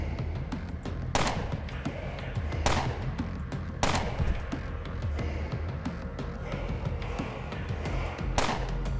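Gunfire in the video game Underrail, several sharp cracking shots at irregular intervals cutting through a steady rumbling, noisy battle background, with no voices.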